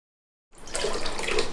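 Filtered water pours steadily into a vessel to make brine for fermenting sour pickles, a close, continuous splashing that starts suddenly after a moment of silence and keeps going to the end.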